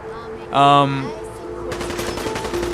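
Rapid gunfire in the video game Fallout 4 follows a brief tonal electronic sound, with dense bursts of shots continuing to the end of the clip over a steady background hum.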